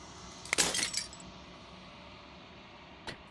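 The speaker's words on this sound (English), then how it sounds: "The final fragment of glass shatters." Glass shattering in the video game Slay the Princess: a sharp crash of breaking glass with scattered tinkling fragments over about half a second, then quiet room tone and one final small clink.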